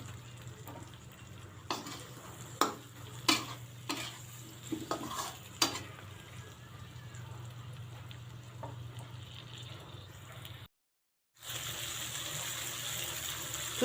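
Raw green and ripe red tomatoes frying in a pan, a low steady sizzle with several sharp scrapes and clinks of a spatula stirring, then a short pause before the sizzle returns.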